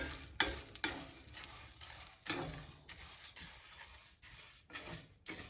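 Pumpkin seeds crackle and sizzle while toasting in a hot pan, with quiet irregular pops and a few stirring scrapes, faint and close.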